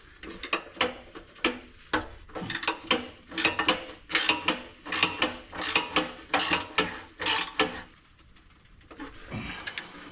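Spanner ratchets a bolt on a Ford Fairmont exhaust, a rapid series of sharp metallic clicks in uneven bursts, close and fairly loud, pausing briefly before a few final turns.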